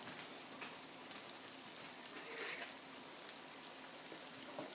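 Green beans boiling in a pot on a kitchen stove, a steady close bubbling and sizzling hiss with no talk, continuous and even throughout.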